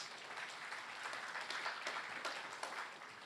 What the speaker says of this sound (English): Ladies and gentlemen, please give a round of applause once again for our speakers